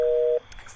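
Telephone call tone in a video game, ringing out unanswered: a single steady electronic beep holds for about a third of a second, then cuts off to near silence.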